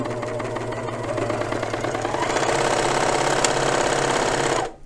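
A Janome serger fitted with a blind hem foot and cloth guide runs steadily with a dense mechanical whir and rapid stitching rhythm, picking up speed midway, then stops abruptly near the end.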